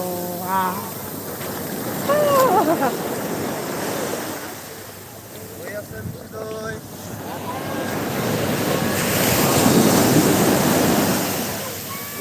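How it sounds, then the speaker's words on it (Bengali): Large ocean waves surge and break along a seashore with a broad roaring wash that swells and recedes, buffeted by wind on the microphone, while voices talk faintly in the background. "বিশাল ঢেউ"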